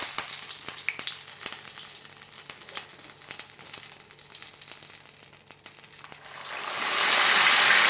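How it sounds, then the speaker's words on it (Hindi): Chicken for chargha hits very hot oil and sizzles steadily, a dense close frying hiss that swells louder near the end. "अच्छे से ऑयल गर्म करके तो इसमें ऐड करना है इसको, चिकन को"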